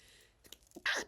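A single sharp sneeze bursts out at the end after a few quiet breathy sounds, close and loud, with no speech around it.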